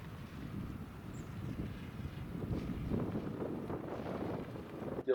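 Strong wind sweeping across an open park during a disc golf tournament, buffeting the microphone with a steady, loud low rumble that swells slightly midway, with no talking.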